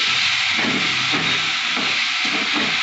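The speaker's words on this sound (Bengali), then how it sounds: "বেটে রাখা মশলাটা, আলমন্ড টালমন্ড দিয়ে যে বেটে রেখেছিলাম সেটা দিলাম, দিয়ে ভাজতে হবে ভালো করে" A ground spice paste made with almonds fries in a pan for a fish dumpling curry, giving a steady loud hiss that rises and falls in rhythmic surges as it is stirred.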